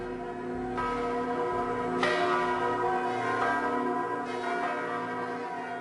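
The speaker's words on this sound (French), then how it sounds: "on entend les cloches du village qui sonnent à plein, à grande branlée" Village church bells in Anjou ringing at full swing, repeated overlapping metallic strikes that ring on continuously, loud and resonant with no talking.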